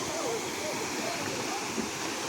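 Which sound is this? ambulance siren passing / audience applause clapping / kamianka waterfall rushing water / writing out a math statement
kamianka waterfall rushing water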